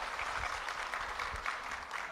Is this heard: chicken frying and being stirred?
no